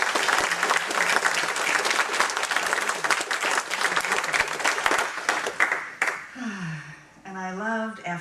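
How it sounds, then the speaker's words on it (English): A church audience applauds the music team: dense, loud clapping fills the room for about six seconds, then fades as a voice begins speaking. "So let's applaud our music team."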